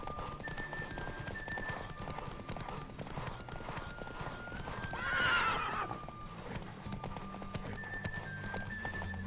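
Steady clip-clop of a horse's hooves galloping continuously in The Witcher 3: Wild Hunt, with a loud whinny rising midway over a busy background.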